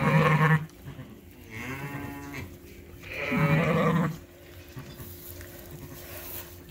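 Sheep and lambs on a farm during lambing season, with loud nearby bleats: one short call at the start, a wavering bleat around the middle and another long call, with quiet barn ambience between.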